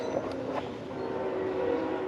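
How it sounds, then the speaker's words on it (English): A train passes nearby as a steady, loud rumble with a horn-like tone holding through the background, continuous for the whole stretch with no talking. "This fucking train."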